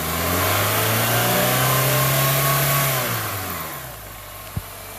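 A 2000 Honda Accord engine with a misfire is revved to about 3,000 rpm and held as a steady, loud, close drone. It then falls back toward idle, followed by a single brief knock.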